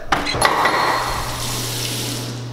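Water runs from a tap into a sink for rinsing the eyes, opening with a few clunks and splashes before settling into a steady, close hissing stream that continues to the end.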